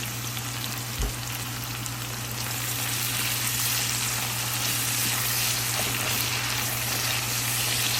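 Onions sizzle steadily in a hot pan with salt just added, a continuous close frying hiss with a single small knock near the start and no talking.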